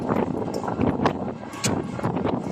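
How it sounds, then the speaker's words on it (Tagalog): Strong wind on an island buffets the microphone in steady, roaring gusts, with no voices. "hangin, lakas ng hangin"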